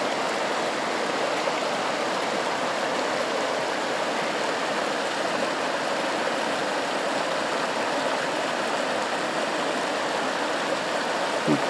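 A stream rushes over a small rapid near a campground, a steady close wash of flowing water that holds constant from start to finish with no voices.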